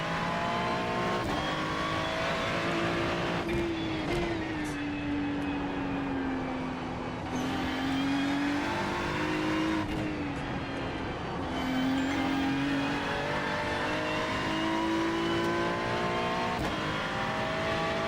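Race cars lapping during the Nürburgring 4-hour endurance race, heard from on board: a steady, loud engine drone that climbs and dips through gear changes over a constant road and wind rumble.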